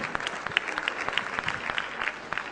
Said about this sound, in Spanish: Celebro el aplauso